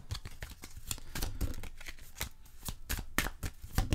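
Tarot or oracle cards being shuffled and drawn for a reading, giving a run of quick, close riffling snaps and flicks that continues steadily throughout, with no talking.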